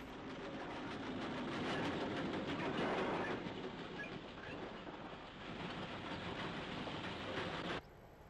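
A heavy 1960s Irish railway train bound for the seaside at Warrenpoint passes steadily on a summer afternoon, with rhythmic clickety-clack of wagon wheels swelling to a peak mid-way and then fading before an abrupt cut.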